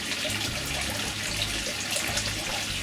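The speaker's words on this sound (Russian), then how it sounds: "Размешивайте, и вода в онсене становится попрохладней." Hot spring water in a Japanese onsen bath is stirred by hand, a steady splashing, gushing wash of water that stays close and continuous.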